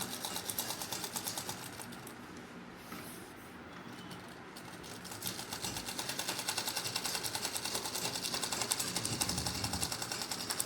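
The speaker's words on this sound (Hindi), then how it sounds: "फिर इसको दूसरी साइड से भी ऐसे ही सिलाई लगाएंगे एक पैर की दूरी पे" Sewing machine running a steady stitch along a semi Patiala salwar, a continuous fast mechanical whir with faint rhythmic ticking that holds close and even throughout, with no voices.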